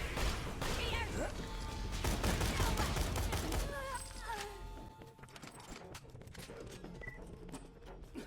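Infinity Pistol gunfire in the video game Borderlands, a rapid string of shots in the first few seconds followed by sparser game effects and a voice speaking.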